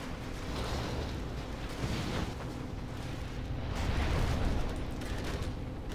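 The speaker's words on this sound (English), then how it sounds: "Warning, particle cannon activated." Particle cannon strike in the strategy game Command & Conquer Generals Zero Hour, a dense, continuous roaring blast that swells and rumbles loudly for several seconds with no let-up.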